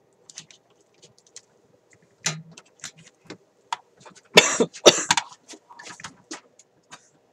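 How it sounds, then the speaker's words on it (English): A person coughs in several harsh bursts, a cluster of loud hacking coughs in the middle with smaller coughs and clicks around them, near a vacuum tube guitar amplifier. "okay, I think I've recovered from a bit of a coughing"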